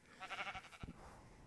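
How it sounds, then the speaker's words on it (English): Minecraft sheep giving a short wavering bleat, faint and quick, followed by a brief soft thump, with no talking. "Sheep are good for wool for various projects."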